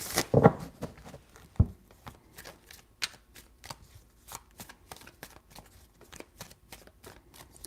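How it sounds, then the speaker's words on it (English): Quiet crisp riffling and tapping of tarot cards being shuffled, close by, with irregular light snaps. "Three shuffles."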